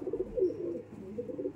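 Madrasi pigeons coo softly in a low, rolling murmur, several soft calls overlapping close by in a quiet setting.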